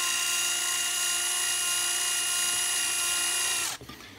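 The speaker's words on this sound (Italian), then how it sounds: "Si può riuscire ad avvitare e svitare anche questo tipo di viti" A cordless power screwdriver fitted with a special Parkside Y-type bit, a high-pitched steady motor whine running continuously before cutting off sharply near the end, loud and close with no talking.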